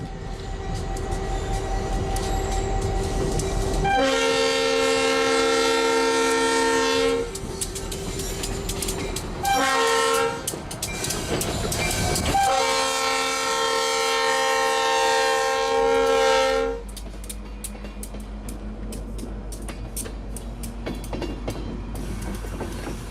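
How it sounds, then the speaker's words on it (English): An unrebuilt ST-50 diesel locomotive's horn blasts in long, loud tones over rumbling engine and railcar noise while switching freight cars on an Illinois industrial railway, then fades to a low idle. "watching the Peru Industrial Railway switch some cars"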